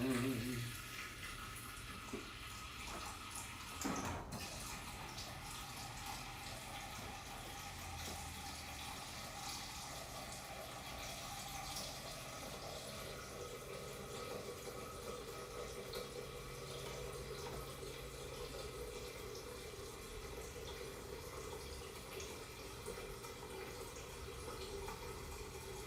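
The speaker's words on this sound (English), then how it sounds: "I'm gonna go ahead and fill it up with water." Tap water runs steadily into a pot being filled for boiling plantains, a continuous even splashing flow that holds at a constant level for the whole stretch, with no talking.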